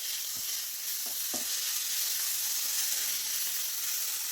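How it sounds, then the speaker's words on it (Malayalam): Chopped green mussels sizzling steadily in a hot pan with spices, a few scraping stirs near the start, no talk. "ഒന്ന് ഇളക്കി കൊടുക്കാം."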